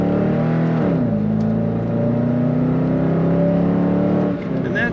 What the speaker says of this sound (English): that's what it sounds like when you put your foot down